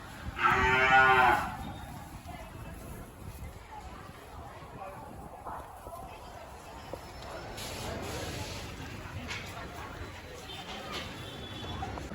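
A cow lets out one loud, close moo near the start at the GKVK Krishi Mela agricultural fair in Bengaluru, followed by quieter outdoor background sounds and faint talk.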